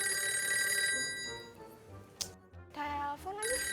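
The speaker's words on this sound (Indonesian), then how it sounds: "Telepon lagi." Telephone ringing indoors in an Indonesian TV comedy scene, a bright electronic trill that rings, pauses and starts again, heard fairly close, with brief voices in between.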